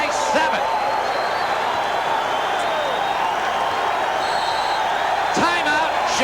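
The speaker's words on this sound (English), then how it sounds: "listen to this crowd" Basketball arena crowd roaring in a steady, dense wall of cheering and whooping during a Nets vs. Bulls game, with faint whistles and voices rising above the sustained noise.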